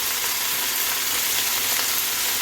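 Squash, carrot and eggplant pieces stir-fry with onion in hot oil, giving a dense, steady, close sizzle that fills the whole moment without pause or voices.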